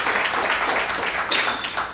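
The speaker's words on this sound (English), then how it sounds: "Round of applause." Audience applause at a startup pitch event, a steady wash of many hands clapping that fills the short stretch at an even, fairly loud level.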